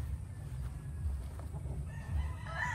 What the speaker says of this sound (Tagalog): Mukhang manukan na.